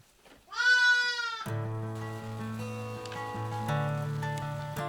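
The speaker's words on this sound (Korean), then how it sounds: "양과 염소떼가 방향을 맞춰 어디론가 이동합니다." Sheep and goats in a flock of over 300 on a Siberian steppe farm in late winter bleat loudly and close at first, then a busier mix of overlapping calls and movement continues steadily.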